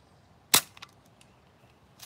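A Daisy No. 155 air gun fires a single sharp, close shot, followed by a couple of faint clicks, with quiet surroundings before and after.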